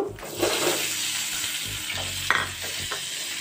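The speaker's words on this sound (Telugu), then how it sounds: "స్టవ్ మీద మూకుడు పెట్టి ఆయిల్ వేసాను, కొంచెం పల్లీలు, కొద్దిగా ఏపుడు శనగపప్పు వేపుకుందాం।" Peanuts and chana dal fry in oil in a pan on the stove, giving a steady close sizzle with stirring scrapes and occasional crackles.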